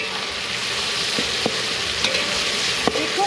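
Pork mince frying in a pan for a Thai farm-style pad kaprow, a continuous close sizzle broken by occasional scraping clicks of a utensil stirring the meat, with no talk.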